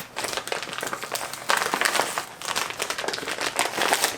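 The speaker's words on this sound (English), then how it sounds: "Look at how much plastic that is." Vacuum-sealed plastic packaging around an LS9 head gasket crinkles and crackles continuously, close and fairly loud, with bursts of sharper rustling as it is handled and torn open.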